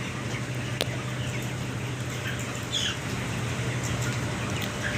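A dense poultry house din of about 1,400 23-day-old chickens clucking and squawking at a distance, a steady murmur over a low hum, with an occasional louder squawk.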